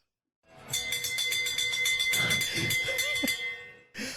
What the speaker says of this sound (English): I'm just ringing the bell again.